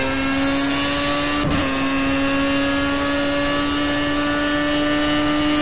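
A race car engine holds a steady high-revving tone while driving, with a brief thump early on and no voices.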